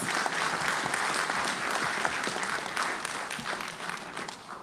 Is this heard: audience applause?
yes